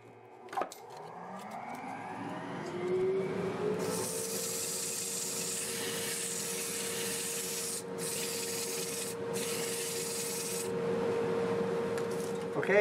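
A segmented wood-turning piece of padauk is sanded on a lathe, the motor spinning up and a dust collector droning steadily while abrasive rubbing hisses in long stretches with brief pauses.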